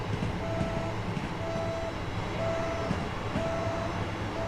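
A train in the Train Sim World game, on the East Coastway Line, runs with a low, steady rumbling drone while a high alarm tone repeatedly beeps in regular pulses about once a second.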